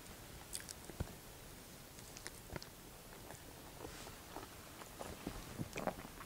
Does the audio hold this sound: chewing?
yes